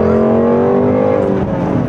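A car accelerates hard in a quick pull, its engine note loud and close, rising steadily in a strained, continuous roar with dense harmonics throughout.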